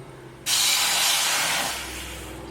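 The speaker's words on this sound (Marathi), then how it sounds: "पाणी उकळायला लागलं" A loud rush of hissing steam from water boiling in a wok on a gas stove bursts in suddenly and holds steady, then eases slightly toward the end, no voices.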